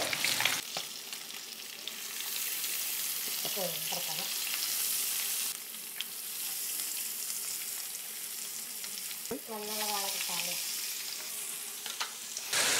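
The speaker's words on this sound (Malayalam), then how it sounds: "അപ്പോൾ നമ്മുടെ ഫിഷിൻ്റെ ഒരു സൈഡൊന്ന് ഫ്രൈ ആയിട്ട് നമുക്കൊന്ന് മറിച്ച് കൊടുക്കാം" Ribbon fish fry in oil in a pan with a steady, close sizzle and hiss that swells and eases. A spatula taps now and then, and two short, faint tonal sounds rise over the frying.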